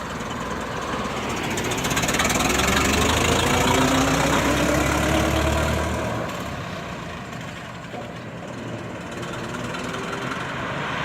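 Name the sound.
antique car engine with slow gear shift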